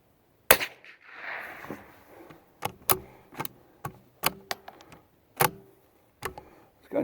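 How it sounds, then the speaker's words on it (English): Shots from a CZ 455 .22 LR rifle ring out as sharp, fairly light cracks, about a dozen spaced irregularly across a few seconds with short gaps between them, fired outdoors toward a backstop. "This gun shoots real good."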